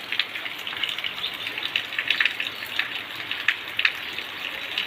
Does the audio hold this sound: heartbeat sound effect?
no